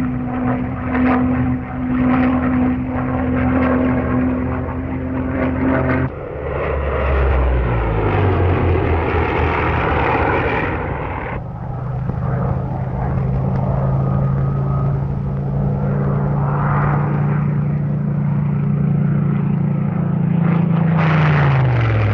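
A Supermarine Spitfire Mark IX fighter roars with a loud, steady piston engine drone, its pitch shifting as the plane passes and climbs, heard alone over the full stretch.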